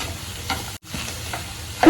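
Eggs fried together with goat blood in a pan sizzle steadily while a spoon stirs and scrapes through the mixture in a few distinct strokes, close and alone, with no voices.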